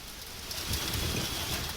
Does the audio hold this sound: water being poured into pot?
no